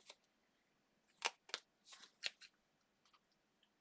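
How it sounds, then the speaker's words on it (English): Scissors cutting along marked lines in card stock for a lattice fold card, giving a few close, crisp snips in quick irregular bursts against a quiet background. "And all we're going to do is cut these lines."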